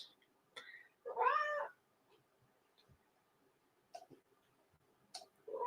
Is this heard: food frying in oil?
no